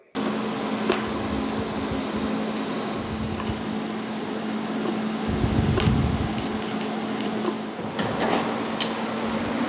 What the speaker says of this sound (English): let's weld her up.